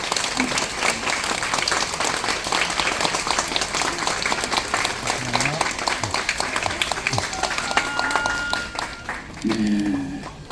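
Guests applaud steadily at a traditional Korean wedding ceremony at the Lotte folk museum in Jamsil, sustained clapping filling the hall for about ten seconds with voices murmuring underneath.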